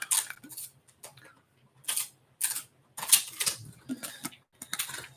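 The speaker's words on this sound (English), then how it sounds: "I'm typing" A keyboard typed on in scattered, crisp bursts of clicky keystrokes, close and fairly quiet, with short pauses between flurries.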